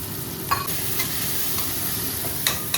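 Peanuts stirred and roasting in a pan, with steady dry sizzling and scraping and a few sharper clinks and scrapes of the utensil against the pan, close up and with no talking.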